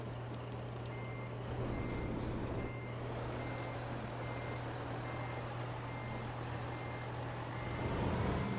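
A truck in the Euro Truck Simulator 2 video game reversing into a parking spot, its backup alarm beeping at a regular pulse over a low, steady engine drone, with a brief hiss partway through.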